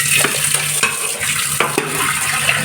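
Taro stems are tossed into reddened masala in a pan and sizzle loudly, with repeated scraping stirs cutting through the steady frying hiss.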